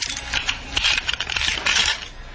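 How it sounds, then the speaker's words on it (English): Keys jingling and fumbling at a door lock in an old-time radio crime drama, a bright metallic clinking in quick irregular bursts, close and alone. "Stop fumbling with those keys. Open the door."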